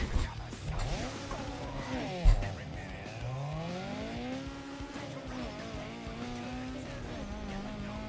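An Integra in Need for Speed Underground 2 revs and drives, its engine note climbing and falling through gear changes with a brief tire squeal, moderately loud and steady throughout.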